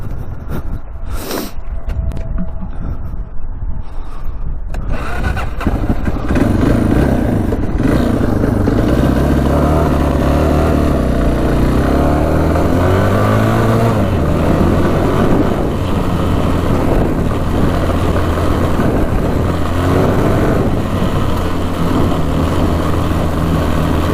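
A street-legal dirt bike's engine drones loudly and continuously while riding, rising and falling in pitch as the rider shifts and accelerates, with wind rush over it and no talking.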